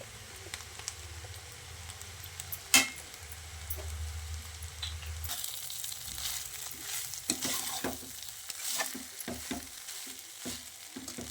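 A spoon stirs paneer fried rice with soy sauce in a hot pan, giving soft scraping and tossing over a low sizzle, with one sharp clink early on.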